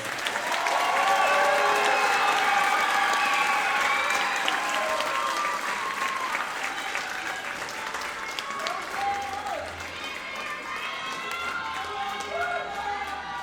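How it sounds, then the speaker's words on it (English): Audience at a middle school band concert gives sustained applause, with dense clapping throughout and some crowd voices in the room. "Will you give them one more big round of applause?"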